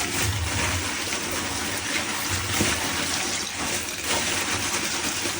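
Water runs steadily from a tap in an even, continuous rush, nearby and fairly loud, with no voices over it.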